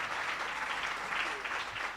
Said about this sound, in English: Please join me in giving a big round of applause to the panelists.